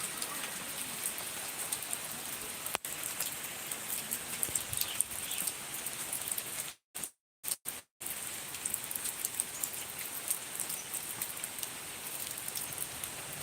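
Continuous rainfall patters steadily, the first rain of the Bengali month of Boishakh, with a brief click early on and a few short dropouts near the middle; no one speaks.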